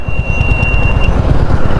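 Cars climb a slope on a hill road near Dhutpapeshwar Temple in Rajapur, their engines humming steadily and close, with a faint high whine running through part of the passage.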